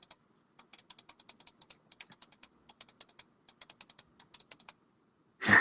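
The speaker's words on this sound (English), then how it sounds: "Someone's cat stepped on their keyboard." A cat steps across a computer keyboard, producing a long irregular run of light clicking keystrokes in small clusters, close and fairly quiet, ending with a burst of noise.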